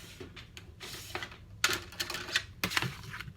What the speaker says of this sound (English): I'm going to rip this edge